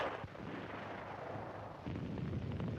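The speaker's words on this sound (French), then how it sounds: "Un char est détruit." A tank being destroyed in 1944 Paris battle footage, heard as a low, rumbling explosion and booming gunfire through a dense, noisy old recording, loud and continuous.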